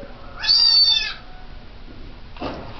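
A cat gives one clear, drawn-out meow up close, then a brief softer sound follows after a pause, with quiet background noise.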